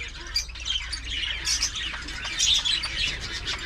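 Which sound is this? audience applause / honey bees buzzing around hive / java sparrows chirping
java sparrows chirping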